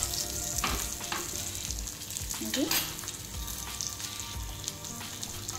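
A garlic and onion tempering fries in a pan for chutney, a steady crackling sizzle with a few stirring scrapes, as a voice speaks briefly in the background.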